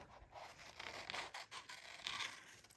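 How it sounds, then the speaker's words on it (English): Scissors snip and rustle through a paper picture cut out for a journal, with quiet close crinkling and scraping in short bursts. "So I think I'm going to actually cut around."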